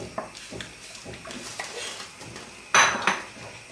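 A utensil scrapes and clinks against a metal pot in irregular strokes, stirring pudding into boiling milk with butter, with a sharper clatter near the end.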